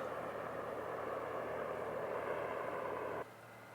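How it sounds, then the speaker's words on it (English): Steady broadband rotor-and-engine drone of a helicopter hovering and flying over a rural fishing hole, loud and constant, then cutting off abruptly near the end. "there goes that helicopter."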